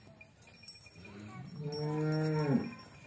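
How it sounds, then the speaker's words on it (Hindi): A Jersey and Friesian dairy cow on a farm lets out one loud, drawn-out moo up close, rising and ending abruptly, with a few clanks and faint background noise before it. "दूसरे नंबर पर ये बछड़ी है जर्सी और फ्रीजियन में।"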